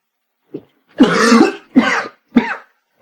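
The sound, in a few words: cough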